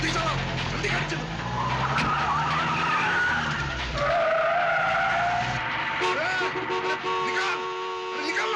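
A car skids hard with loud, wavering tire squeals and engine roar throughout, close and sustained, while tense voices shout over the commotion.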